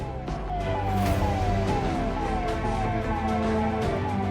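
A VIP car's hooter siren wails in repeated rising-falling sweeps, loud and continuous over low road and engine rumble, with no speech.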